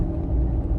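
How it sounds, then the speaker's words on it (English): A Toyota truck with a TRD lift kit driving on the road, heard as a steady, loud low rumble of engine and road noise from inside the cab. "been driving the truck for about 5 to 10 minutes here"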